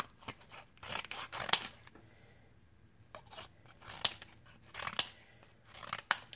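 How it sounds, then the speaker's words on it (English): 7-inch stainless steel multifunction scissors snip through cardboard in several quick bursts of crisp crunching cuts, close and fairly quiet, separated by short pauses. "So here's just the cardboard. So it's decent at cutting."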